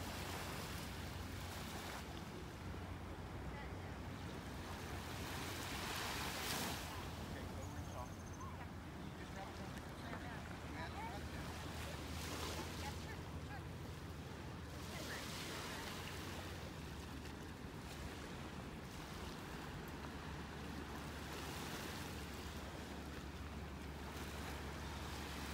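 Ocean waves roll onto a beach under steady wind, a continuous broadband wash with gusts buffeting the microphone; someone talks over it throughout.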